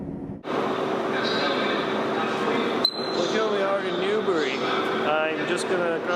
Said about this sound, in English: I'll pick this up when I get off the train